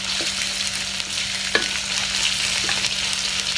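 Spices, onion, curry leaves and dried chilies sauté in hot oil with a steady crackling sizzle and occasional light scrapes and taps of a spatula, close by and without speech.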